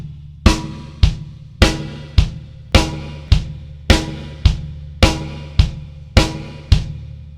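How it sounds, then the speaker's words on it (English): Drum kit playing a blues shuffle pattern with small splits and flams, crisp evenly spaced hits about every half second, each with a short ring, played alone and close. "You'll often hear these little splits and little flams."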